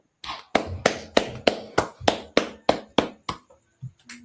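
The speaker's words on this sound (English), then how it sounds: "All right, clap it up." Roughly a dozen sharp, evenly spaced claps ring out one after another in a steady slow rhythm, close and crisp with clear silence between each, then trail off into a couple of looser final claps.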